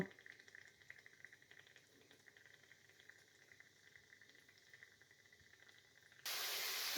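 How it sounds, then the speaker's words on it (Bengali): Ginger-garlic paste frying in hot oil in a pan for a mashkalai lentil dish, a soft, steady hiss that swells into a louder rush of sizzling at the end. "আদা রসুন বাটা দিয়ে আমি এক মিনিটের মতো"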